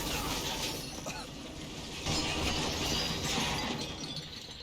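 A draisine crashes in the video game Metro 2033 Redux: a dense, loud wall of grinding, shattering noise runs throughout, with a heavier surge about halfway through.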